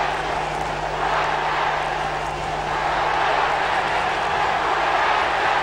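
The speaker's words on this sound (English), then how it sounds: "Crowd getting all worked up now." A large football crowd at a Leeds United match roars and grows worked up, a dense, continuous wall of cheering and shouting that holds loud throughout.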